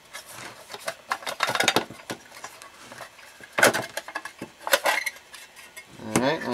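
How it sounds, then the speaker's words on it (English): Metal covers come off a BC-342 radio receiver with irregular close clanks, rattles and scrapes, and a few sharp metallic knocks stand out among quieter handling noises. "And now pull our covers off."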